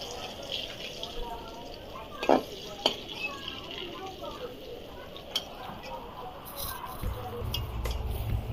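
Lentil cakes (dhoka) frying in a pan as they are turned over, giving a steady low sizzle with a few sharp utensil clinks, louder toward the end.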